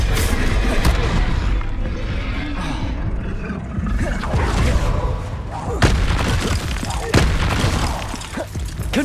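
Bombarda explosion spells in the Hogwarts Legacy video game, a loud booming, rumbling blast with crashing debris and a few sharp impacts, sustained and close.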